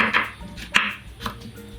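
Onion being chopped with a knife on a board: three distinct, close knocks spaced about half a second apart, with a faint scraping between cuts.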